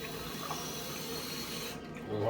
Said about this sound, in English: Then come over here, fill up the water.